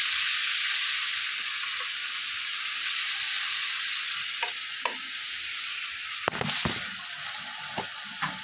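Chopped leafy greens sizzle steadily in a hot pan with chilli, with a few scraping stirs and clinks of the spatula near the end.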